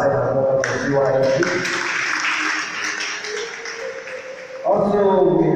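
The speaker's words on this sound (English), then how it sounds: "Please let's clap for ourselves" A banquet crowd claps together for roughly four seconds, a dense spread of applause that rises after a speaker's voice and fades as talking resumes.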